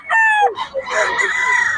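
A rooster crows loudly and close by in Bocaue, Philippines, a drawn-out harmonic call followed by more clucking and crowing from chickens.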